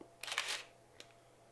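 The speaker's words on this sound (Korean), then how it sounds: "60분의 1초일 때 셔터 스피드의 속도를 한번 들어보시겠어요?" A manual film camera's shutter fires at 1/60 second: a close, crisp mechanical clatter lasting under half a second, followed by a single fainter click, in a quiet room with no talking.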